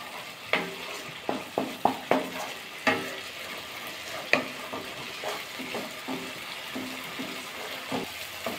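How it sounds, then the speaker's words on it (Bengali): A spice paste with coconut and peanuts is stir-fried with a little water in a pan, with repeated sharp spatula scrapes and clinks at an irregular rhythm over a soft sizzle, close and without talking. "দরকার অল্প অল্প জল দিয়ে কষিয়ে নেব মশলাটা।"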